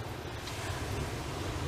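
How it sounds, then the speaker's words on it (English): Wind and waves on a rainy, windy seashore near the Eastbourne cliffs at night form a faint, steady wash of broadband noise with no distinct breaks. "It is windy and it is rainy"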